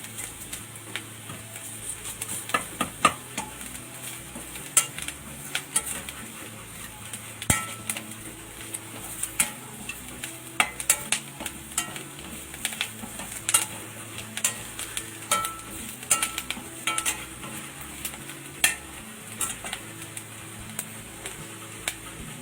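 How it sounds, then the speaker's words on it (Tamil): Chana masala is stirred and fried in a pan, with repeated sharp spatula scrapes and taps over a low, steady sizzle throughout. "மசாலாலாம் ஆட் பண்ணிவிட்டு நல்லா மிக்ஸ் பண்ணிடணும்"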